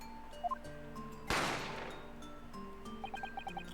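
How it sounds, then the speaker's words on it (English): A single sharp gunshot from The Great Ace Attorney, a loud, close crack with a quickly fading burst, set among soft synthetic game chimes and tones before and after. "A gunshot rang out"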